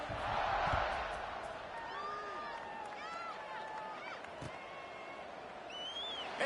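A stadium crowd in the College Football 26 video game gives a continuous, broad roar with scattered whoops and whistles. It swells at the start and then holds steady at a moderate level under faint background voices.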